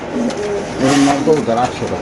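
A pigeon at a bird seller's stall coos in short rounded bursts close by, with a voice talking over it.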